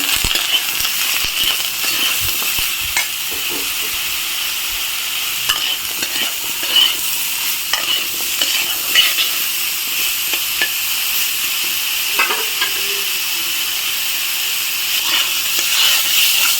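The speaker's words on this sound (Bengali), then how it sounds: "নেড়ে চেড়ে একটু ভেজে নেবো হালকা করে" Bottle gourd with salt and turmeric powder being stirred and lightly fried in a pan, a loud continuous sizzle with frequent clinking spatula strokes, no talking.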